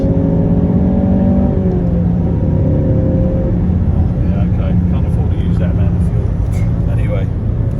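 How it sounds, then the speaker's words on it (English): A Volvo XC70 engine drones and rumbles steadily from inside the vehicle while accelerating, with a rising whine early on and faint chatter beneath. "Oh, what a sound of that engine, eh?"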